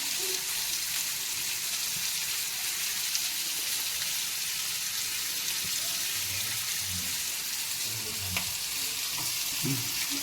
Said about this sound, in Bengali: এটা আস্তে আস্তে শ্যালো ফ্রাই হবে